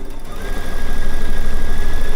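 A domestic sewing machine runs steadily, its motor whirring with a rapid needle rhythm that builds over the first half second and then holds at an even, close, loud pace.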